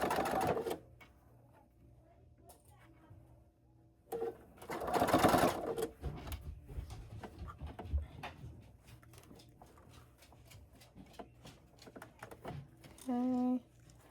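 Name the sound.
sewing machine stitching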